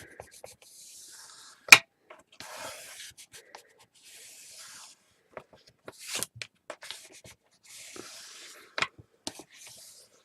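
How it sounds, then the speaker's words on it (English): A bone folder is rubbed over delicate paper in short, dry, scraping strokes, separated by brief pauses and an occasional sharp tap, close and quiet. "next bone folder, and I have to be quite careful with this because this paper is actually quite delicate."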